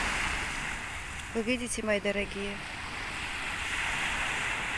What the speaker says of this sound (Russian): Какое обалденное сегодня море.